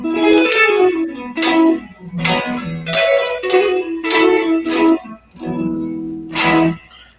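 Electric guitar heard through its Lollar Classic neck pickup on a custom-built instrument, several loud sustained notes and chord stabs in separate phrases with brief gaps, played alone and close.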